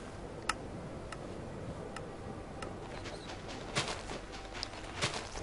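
Birds chirp in a Minecraft world, small bright calls recurring every second or so at moderate distance over a steady soft ambient hiss, a few louder clustered chirps near the end, with no voices.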